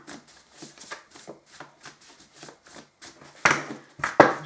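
Tarot cards shuffled by hand from a pile, a run of soft rhythmic riffles and flicks, then two louder, sharper bursts of card rustling near the end, close and with no talking.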